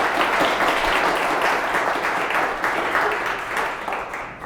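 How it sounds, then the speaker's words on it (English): A crowd applauds steadily, a dense wash of many hands clapping at once, holding loud and even for several seconds before easing slightly at the end. "Let's have a round of applause for My Dealer Service."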